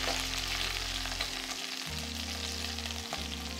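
Pork belly sears skin side down in a hot pan for dark soy-braised dong bo ro, a continuous even sizzle with a low steady hum behind it.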